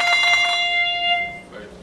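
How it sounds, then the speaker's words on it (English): Hand bell shaken, giving a rapid ringing tremolo of bright sustained tones that stops after half a second and leaves a lingering decay, then fades. "where you just shake the bell"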